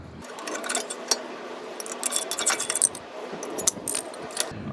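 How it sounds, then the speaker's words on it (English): Front brake pads being pried out of the caliper on a 2005 Honda Accord, with scattered metallic clinks, rattles and scrapes in an irregular rhythm, close by. "Removing my brake pads."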